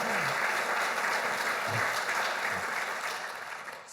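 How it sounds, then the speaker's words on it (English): Audience applause at a university leaders forum during a reunion event, a steady broad wash of clapping from a crowd that holds for several seconds and then gradually tapers off at the end. "give her a round of applause"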